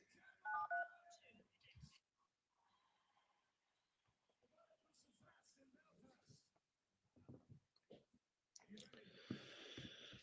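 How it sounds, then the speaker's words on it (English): Touch-tone phone keypad beeps as a number is dialed for a cold call to set appointments, a short cluster of tones near the start followed by faint handling noise and quiet background speech. "We're going to call Mr. Lafredo right now"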